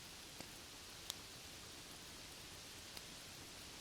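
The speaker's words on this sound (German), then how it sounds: "Der Regen draußen wird zu einem gleichmäßigen Rauschen, einem weißen Rauschen der Natur, das jeden anderen Gedanken übertönt." Steady rain falling outside a forest cabin, a soft continuous hiss with a few faint droplet ticks, quiet and even throughout.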